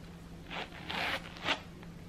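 A zipper running on a Disney Coach full-size, accordion-style wallet that zips all the way around, made as three short, close rasping strokes with brief pauses between them and no voices.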